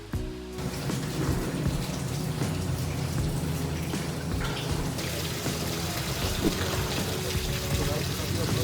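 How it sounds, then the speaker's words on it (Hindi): Rain falls steadily outdoors in the hills on a solo motorcycle ride from Delhi to Mcleodganj, a constant dense hiss and patter close around the listener, with no clear talk over it. "गाइस फिर से बारिश स्टार्ट हो गई है"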